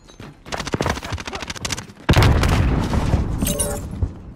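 Grenade explosion in a shooter video game: rapid gunfire first, then a sudden loud boom that rolls on as a heavy rumble with scattered debris and crackle.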